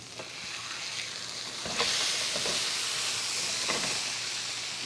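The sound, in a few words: steak sizzling in a pan while being flipped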